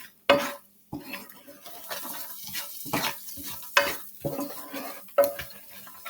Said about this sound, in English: And let it saute in the skillet.